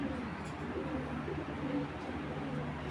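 Racing pigeons of foreign bloodline coo steadily in a loft, a low continuous murmur of several birds close by with faint background noise.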